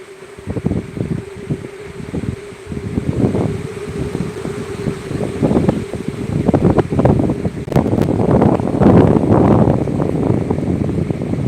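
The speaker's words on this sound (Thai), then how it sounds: "จัดว่า ลมแรงค่ะ คุณผู้ชม ลมแรง ค่ะ" Strong wind gusts through a papaya garden in Sukhothai province, Thailand, buffeting the microphone with rough, repeated rumbling bursts and rustling that grow louder and denser toward the end.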